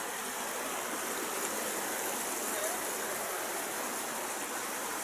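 A river flows steadily, a constant broadband rush of water without pause, close and fairly quiet, with no voices over it.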